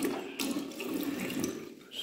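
Tap water running steadily into a ceramic sink fitted with a water heater in a bathroom, a close, continuous splashing rush lasting about two seconds.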